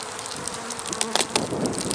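A steady buzz of many bees in an open hive fills the air close by, a dense hum with individual insects droning past.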